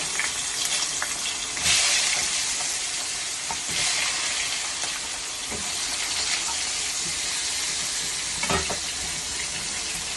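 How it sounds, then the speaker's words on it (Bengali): Eggplant cut into long strips frying in oil left over from frying parshe fish, a steady broadband sizzle and crackle running throughout with a few louder pops, close and alone without talk. "এই মাছ ভাজার তেলের মধ্যে এবার আমি দিয়ে দেবো এই বেগুনগুলো"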